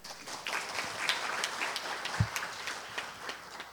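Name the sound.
audience applause for a speaker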